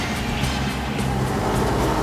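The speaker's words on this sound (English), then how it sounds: "So we're cultivating our imaginary crop." A tractor pulls a cultivator through compacted soil, giving a steady, loud low engine drone with a constant rumbling texture over the short stretch.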